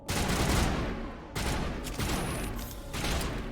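A shotgun fires in the sci-fi video game Mass Effect: about four heavy, loud blasts in quick succession, each with a long noisy tail that fills the space between shots.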